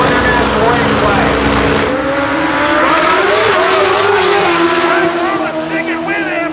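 Drag race cars at the final at Maryland International Raceway, engines roaring loud and steady with rising pitch sweeps as they accelerate, under an announcer's commentary.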